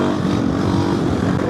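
An AJP PR7 motorcycle engine drones steadily and loudly at high revs, a continuous close mechanical roar pulling through a gear with no break or talk.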